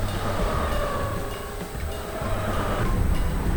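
Class 321 electric multiple unit on the Welwyn Garden City to London Kings Cross route in a train simulator rumbles past steadily, a continuous loud rolling drone with faint clatter and no talking.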